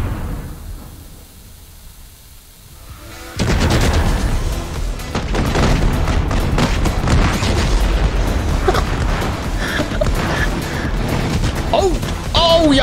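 In a fireworks simulator video game, after a quieter stretch, a sudden loud boom as a supermarket is blown up erupts into a long roaring wash of crackling blasts and pops that continues to the end.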